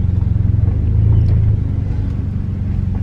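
A 1973 Mustang GT pulling away, its engine a loud, close, low rumble with a steady pulsing throb that holds level, with no voices over it.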